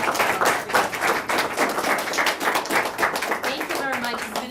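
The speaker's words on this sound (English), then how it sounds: "Let's give a big round of applause." Audience applause after a public relations talk, a brisk, fairly close clatter of clapping hands with a voice speaking over it toward the end.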